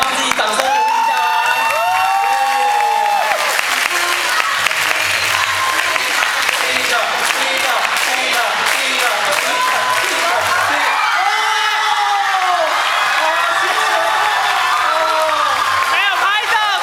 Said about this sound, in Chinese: 大家帮自己掌声鼓励一下吧